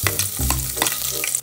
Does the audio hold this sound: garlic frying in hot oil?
yes